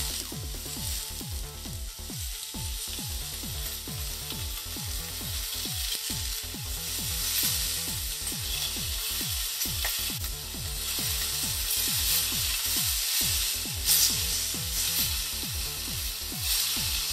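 Roast beef sears in a hot pan as its sides are browned, a loud continuous sizzle and crackle with rhythmic ticking underneath, close and steady with no talking.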